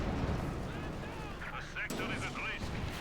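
In Company of Heroes 2, a tank shell bounces off a German command tank's frontal armor during a battle with a T-34. Booming artillery-like shots and a sharp metallic crack stand out against loud, continuous battle noise.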